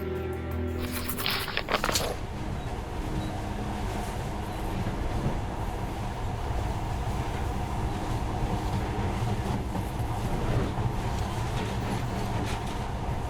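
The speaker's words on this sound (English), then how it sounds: "But now, this monorail seems magic, doesn't it?" Monorail train in the Metro Last Light video game rumbles steadily and close throughout, with a brief burst of louder clatter and hiss at the start.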